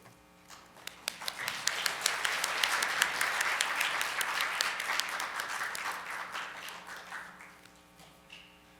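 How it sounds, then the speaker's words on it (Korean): A conference audience gives warm, sustained applause for a keynote speaker at an education and digital economy event, the clapping swelling to a dense roar and then tapering off over several seconds. "더욱더 뜨거운 박수로 모셔보겠습니다."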